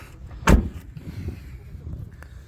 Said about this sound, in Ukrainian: відчиніть двері, є у вас ключі